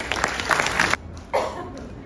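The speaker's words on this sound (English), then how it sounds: "Let's give a round of applause to Professor Pena." At a 2023 ICS Hall of Fame induction, an audience applauds an inductee with a brief burst of clapping that stops abruptly, then a short second flurry follows, fairly close and loud.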